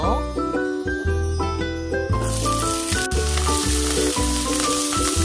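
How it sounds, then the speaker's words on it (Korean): Two tablespoons of cooking oil sizzle in a preheated pan over medium-low heat; a steady frying hiss rises about two seconds in and continues under background music. "불을 켜고 예열 후 중약불에서 식용유 두 큰술 넣고"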